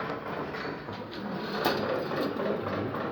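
Pigeons in loft cages, including Egyptian breeds, cooing softly in a continuous low murmur of overlapping calls, with light rustling from the birds nearby.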